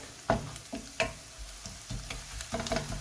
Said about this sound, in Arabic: دابا البصل ترخى تعرق مزيان